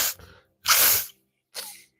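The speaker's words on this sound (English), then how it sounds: "I do have to sneeze." A woman sneezes during a restorative yoga and breathing session: a short inhaled burst, then one loud, forceful sneeze, then a softer exhale, all close by with no talk.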